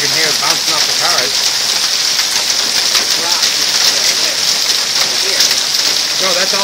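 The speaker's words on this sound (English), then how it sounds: "You can hear it bouncing off the cars." Hail in a Florida hail storm clatters and patters steadily on cars and the ground in a dense, loud wash, with voices talking faintly underneath.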